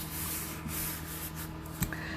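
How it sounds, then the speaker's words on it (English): Scoring tool burnishing a fold in cardstock, soft close rubbing strokes with a brief scrape near the end, quiet and alone. "I'm just going to use our scoring tool here to burnish it"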